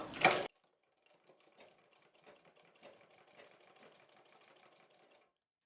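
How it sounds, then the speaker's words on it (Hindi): A sewing machine stitching a long double seam on a small poshak garment, a soft steady mechanical whirring with rapid ticking, quiet and alone after a brief loud burst at the start. "एक बार चलिए हम इसे लंबा सिलाई लगा लेते हैं यहाँ से"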